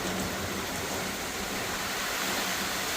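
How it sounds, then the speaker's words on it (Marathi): Light rain falls steadily over an open farm field, a continuous soft broadband hiss with no distinct drops standing out, no voices. "थोडा पाऊस आलेला आहे"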